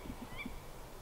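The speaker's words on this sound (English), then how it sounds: "You can hear that tawny owl, yeah," A tawny owl calls at night from an outdoor stargazing site, giving a few faint, distant low hoots in quick succession against a quiet background.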